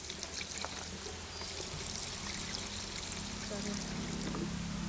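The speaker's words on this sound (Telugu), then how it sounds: "నీళ్ళు పోసుకునేసి" About a litre of water is poured into a plastic jug or tub to mix an egg and soapnut emulsifier solution, a steady splashing pour running the whole time with a voice faintly underneath.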